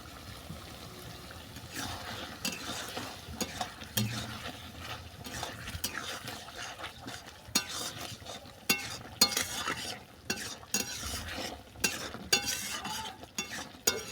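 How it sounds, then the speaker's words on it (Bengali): Ground cumin and garam masala are stirred into a sizzling egg and kohlrabi dum curry: a spoon scrapes and clatters irregularly against the pan, growing busier toward the end, over a soft frying hiss. "মশলাটা ভালো করে মিশিয়ে নিলাম"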